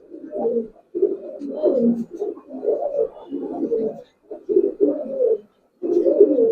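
Giribaz pigeons coo repeatedly in low, rolling phrases close by, each burst separated by brief pauses.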